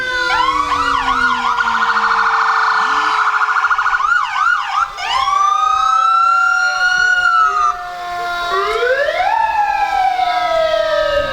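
Loud, close emergency vehicle sirens wailing and yelping in rising and falling sweeps at a Fourth of July parade, several overlapping tones shifting patterns over the length of the clip.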